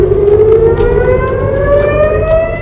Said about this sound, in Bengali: এর পরপরই ইসরায়েল জুড়ে বাজছে সাইরেন।